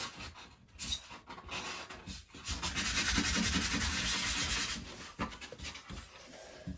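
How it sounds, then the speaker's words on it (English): Sandpaper rubs over drilled holes in a wardrobe panel, a close scratchy swishing that swells into a sustained rough scrubbing for a couple of seconds, with shorter strokes before and after. "Grab yourself a little bit of sandpaper and just give the hole on either side just a little rub over, just to get rid of any loose bits."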